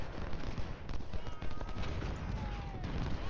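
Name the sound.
repeater rifles firing in Ultimate General Civil War video game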